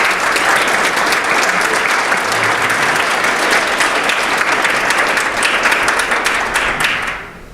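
Sustained, loud applause from a panel audience greeting a speaker at an institute launch event, steady clapping throughout that tapers off at the end.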